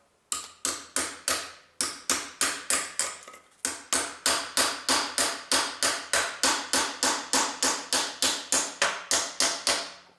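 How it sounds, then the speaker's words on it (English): A knife is tapped repeatedly into the seam of a Honda Civic R18 1.8 clutch housing, producing a rapid series of sharp, evenly spaced metallic knocks with a brief pause early on, close and crisp. "firstly I use my tool knife in here, this side area"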